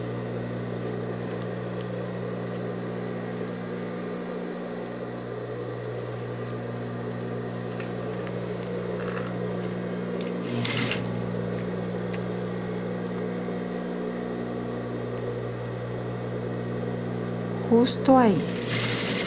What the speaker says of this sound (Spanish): vamos a coser de manera recta esta pestañita que excede de la contrahojalera